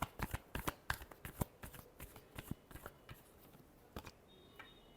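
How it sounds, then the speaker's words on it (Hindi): Tarot cards shuffled up close, a quick run of crisp papery riffles and soft taps with brief pauses between bursts and no talking. "Last shuffle."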